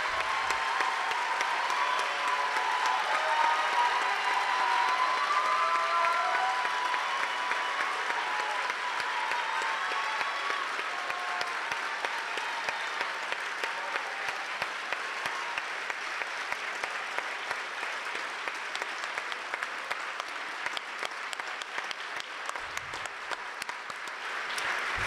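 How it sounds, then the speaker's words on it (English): Applause for two candidates standing at a 49th Ward aldermanic debate: a long, even roar of clapping from a large audience, sustained throughout with faint cheers early on. "Let's give them a huge round of applause."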